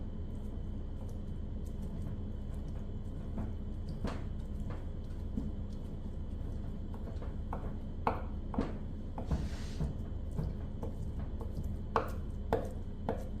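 A knife chops kimchi on a cutting board for a spicy kimchi dumpling filling, giving scattered sharp taps that build into a quicker cluster of chops near the end, over steady low background noise.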